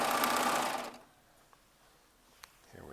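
A Baby Lock serger runs a fabric strip in one short, loud burst of rapid stitching, then stops, leaving near silence with a couple of small clicks before it starts up again.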